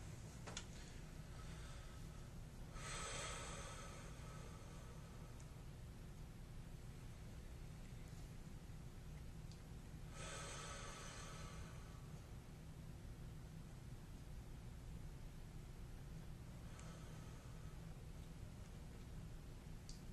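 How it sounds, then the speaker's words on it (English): Slow deep breathing during a relaxation exercise, with three long breathy rushes at even, widely spaced intervals over a steady low background hum, close to the microphone and with no talking. "I'm gonna start doing the breathing for 20 seconds."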